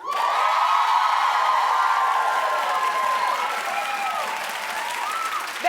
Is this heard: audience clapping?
yes